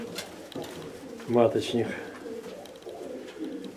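Uzbek double-crested pigeons coo in a short burst of low, throaty calls, close by, with someone talking briefly over the indoor background of a breeding loft.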